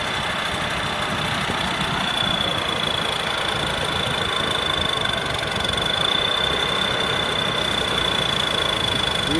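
A combine harvester fitted with a Hino J08C engine runs at a steady, loud, rumbling idle for the whole stretch, with a constant whine above it and no talking.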